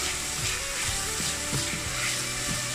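Frozen vegetables sizzle and crackle in a hot pot over browned ingredients for a one-pot noodle dish, with steady close frying hiss and a few soft stirring scrapes.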